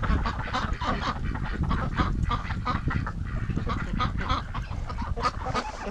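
A flock of ducks gathered around a garden hose honks and quacks excitedly in a dense, continuous chorus, loud and close, with no voices over it.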